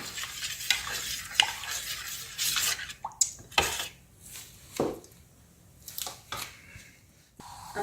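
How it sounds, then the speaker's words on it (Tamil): Salt and masala being stirred into pakoda kuzhambu in a pan, with clinking spoon-on-pan scrapes and light stirring strokes repeating irregularly, close and moderately loud, with no talking. "உப்பும் தேவையான மசாலா சாமானையும் சேர்த்து நம்ம இதை நல்லா கலந்து விட்டுக்கணும்."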